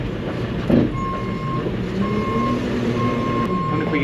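A telehandler's reversing beeper sounds in regular, evenly spaced tones over a steady engine rumble, fairly close, with a brief clunk early on.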